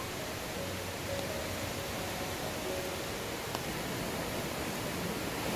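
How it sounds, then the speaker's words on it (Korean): A swollen mountain stream rushes after rain at Guryongsa temple on Chiaksan, a steady, even hiss of flowing water with no breaks, moderately loud and continuous. "여기에 물이 불어 물소리가 엄청나네요."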